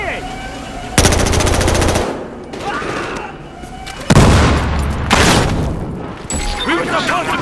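Automatic gunfire from the video game Battlefield Hardline comes in loud, rapid bursts, three or four sustained volleys separated by short pauses, with a raised voice shouting over the shooting.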